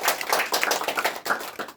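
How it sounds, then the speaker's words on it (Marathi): A crowd at a village community gathering claps to welcome guests, a brisk, uneven patter of hand claps in quick bursts, moderately loud and close. "टाळ्या वाजवून आपलं स्वागत करूया"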